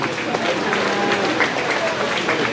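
Steady crowd applause for the exhibitors at the Cherokee County Fair beef show, a dense, continuous wash of clapping with a voice talking over it.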